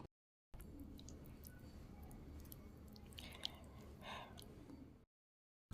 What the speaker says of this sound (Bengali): এতে আদা রসুন পেস্ট দিয়ে আমি একটু মেখে নেব।